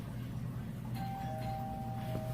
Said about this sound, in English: somebody's ringing the doorbell, so now I gotta go answer it.